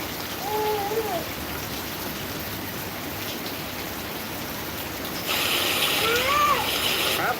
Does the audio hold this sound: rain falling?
yes